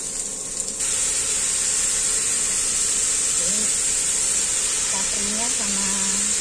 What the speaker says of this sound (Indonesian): Sekarang tinggal wortelnya diaduk-aduk sekalian.